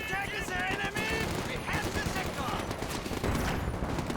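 Rapid rifle and machine-gun fire rattles continuously as assault grenadiers and commandos trade shots at point-blank range in a muddy Company of Heroes 2 3v3 battle, dense overlapping bursts under a talking voice.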